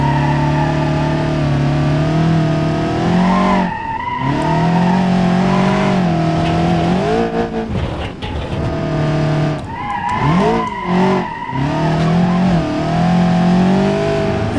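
A race car in BeamNG Drive laps Hirochi Raceway, its engine revving loudly and continuously with shifting pitch, dipping between gear changes and accelerations, with brief tire squeals and skids along the way.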